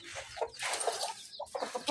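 A rooster and hen cluck in short, close bursts that come and go over a couple of seconds, with faint background noise and no talking.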